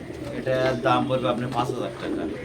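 Fancy pigeons at a breeding farm coo close by in a few soft, throaty bursts, one after another over about two seconds.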